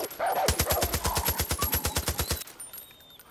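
Rapid automatic gunfire in the video game Far Cry 5, a loud, steady burst of about twenty evenly spaced shots lasting around two seconds before cutting off abruptly. No dog is distinctly audible beneath it.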